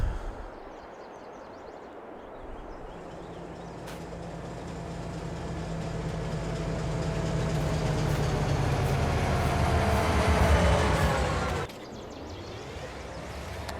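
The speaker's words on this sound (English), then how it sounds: "here comes the train" A train pulling in within a farming video game, its rumble swelling steadily with a long rising engine drone, then cutting off abruptly near the end to a quieter hum.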